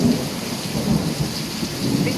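Steady rain pours down outdoors near flowers and orchids, a dense, even hiss with low rumbling underneath, continuous and fairly loud with no voices.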